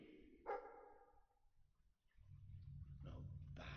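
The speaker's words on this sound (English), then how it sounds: "Sounds like the dog's found something." A dog barks once in a video game cave, a short sharp bark near the start, followed by low rumbling game ambience and faint background sounds.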